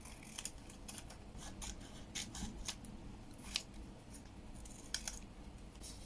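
Scissors cut a picture out of a magazine page for a journal frame, a close, quiet series of crisp snips and paper rustles at an uneven pace.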